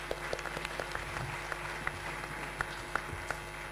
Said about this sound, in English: that really deserves a round of applause.